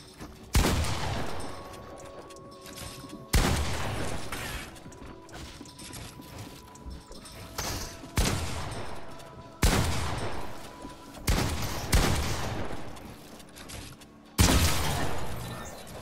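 Pump shotgun blasts in a video game aim-practice map: about eight loud, sharp shots fired one at a time at uneven intervals of roughly one to two seconds, each followed by a short mechanical ring and decay.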